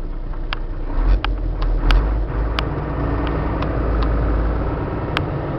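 A box truck with a reefer unit pulls away in low gear, its engine a steady low drone, with scattered clicks and rattles over it and no voices.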